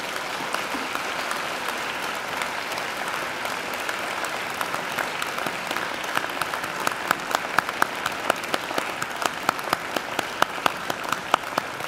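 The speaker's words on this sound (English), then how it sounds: "give them a hearty round of applause." Sustained applause from graduates at a university graduation ceremony, turned to clap for their family and friends; dense, steady clapping filling the hall, with sharper individual claps standing out toward the end.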